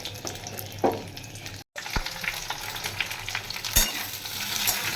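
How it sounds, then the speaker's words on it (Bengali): Sliced okra sizzles in hot mustard oil with nigella seeds, a steady close frying hiss broken by scrapes and knocks of a stirring spoon and one brief dropout, with no talking. "ভালো করে ভেন্ডিগুলোকে একটু সাঁতলে নেব।"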